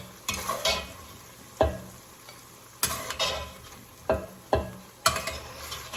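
Fried beef is scraped out of a sizzling pan into a bowl; about six sharp utensil scrapes and clanks sound at irregular intervals over a soft, constant sizzle.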